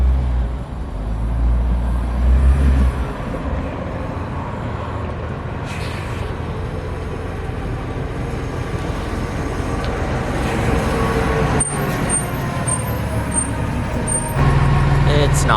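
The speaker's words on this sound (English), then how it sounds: "It's not my bus, but it's still nice to fanboy over buses." A bus and other traffic pass a city bus stop: low engine rumble and road noise, a sharp air-brake hiss near the end, and vehicles idling close by.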